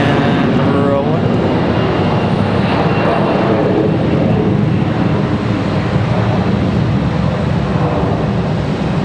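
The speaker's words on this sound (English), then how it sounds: "It's got an A321 off and rolling." An American Airlines Airbus A321 on its takeoff roll at Charlotte Douglas, a loud, close jet roar that stays strong and steady throughout, with wind buffeting the microphone.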